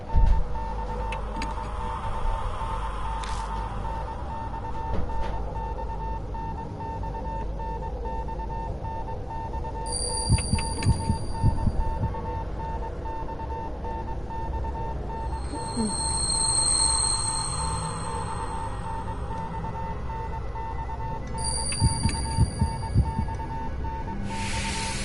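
Electronic beeping in the Death Mark game on PS4: a few high, clean tones recur in short bursts, each followed by a pause, over a low background hum and soft rumble.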